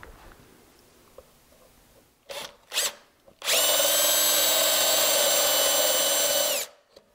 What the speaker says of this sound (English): These hole saws are fine, but they keep getting clogged up on wood.